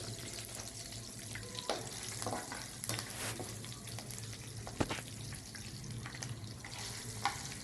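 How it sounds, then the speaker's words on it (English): Curd chilies (dahi mirchi) frying in hot oil, a steady close sizzle with occasional stirring clicks and scrapes throughout, no talking. "All are properly fried."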